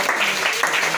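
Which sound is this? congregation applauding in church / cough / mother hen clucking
congregation applauding in church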